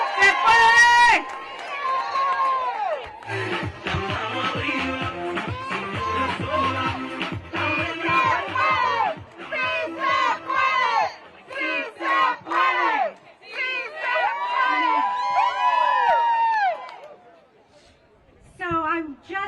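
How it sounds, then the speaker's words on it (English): A large rally crowd roars, cheers and chants outside the Supreme Court after a birthright citizenship hearing, loud and sustained with surging voices and shouts, tapering off near the end. "Let's give it a huge round of applause."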